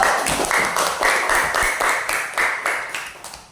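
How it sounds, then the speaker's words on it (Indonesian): A class of students claps together for a group's finished work during a school lesson, a dense, fairly loud burst of many hands with a steady rhythmic pulse. "tepuk tangan untuk kelompok 1"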